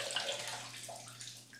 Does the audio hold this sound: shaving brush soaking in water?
yes